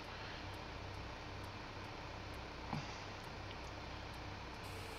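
A tractor engine in the video game Farming Simulator 15 drones steadily as it drives, a constant even rumble with no talking over it and one brief soft bump partway through.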